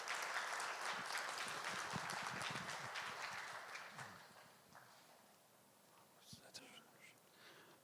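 Audience applause at a book presentation, a crowd clapping steadily and fairly loud for several seconds, then thinning out to scattered claps and fading toward near quiet.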